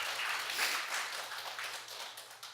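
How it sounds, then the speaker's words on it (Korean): Congregation applauding in a church service, a dense, steady wash of many hands clapping at moderate loudness throughout, with no voices standing out. "이런 때는 박수를 올려도 괜찮습니다"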